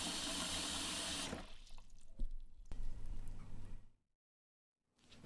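Tap water runs into a bowl for soaking 100 g of glass noodles, a steady rushing stream that stops abruptly, followed by a few small drips and wet handling sounds, then near silence.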